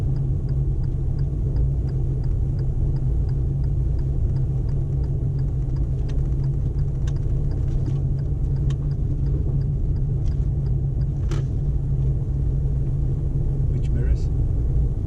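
A car engine drones in a low, steady rumble from inside the cabin during a learner's driving lesson, with people talking over it throughout.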